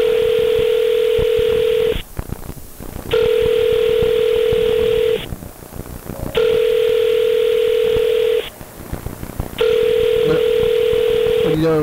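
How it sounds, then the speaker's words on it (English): A telephone rings repeatedly down the line, four long steady tone bursts separated by short pauses, loud and clear with faint background murmur between the rings. "We spend too much time listening to the phone ring, huh?"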